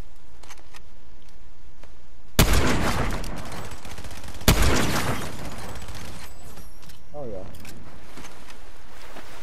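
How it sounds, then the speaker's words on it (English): Enemy gunfire in a shooter game: two sharp, loud bursts a couple of seconds apart, each trailing into a crackling decay over a low background hum, with faint voices in between. "They're shooting at me now."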